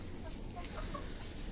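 Chickens on a farm cluck softly in short scattered calls over low background noise, fairly faint and brief.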